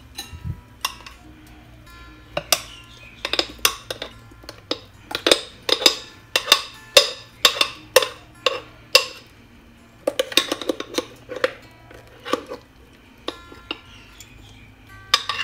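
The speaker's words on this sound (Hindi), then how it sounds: "अब मैंने दाल के मिक्सचर को ग्राइंडर से अच्छे से निकाल लिया है।" Lentil batter for medu vada being scraped out of a grinder jar into a bowl, a run of sharp clinks and taps of a spoon on metal, irregular and close, with no talking.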